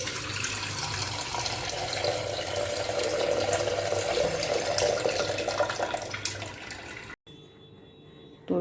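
Tap water running into a kitchen sink for washing dal and rice, a steady close splashing stream that builds slightly, then cuts off abruptly and leaves near silence, with no talking.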